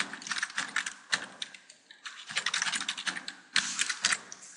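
Someone types on a computer keyboard nearby in short bursts of quick, crisp keystrokes separated by brief pauses.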